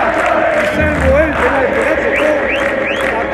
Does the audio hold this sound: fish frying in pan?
no